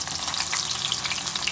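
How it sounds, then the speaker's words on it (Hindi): Sliced onions sizzle in leftover pakora oil while kadhi pakora is being made, a dense, steady crackling fry close by with no voices. "जो तेल बचा था इसमें हम देखें प्याज डाल देंगे"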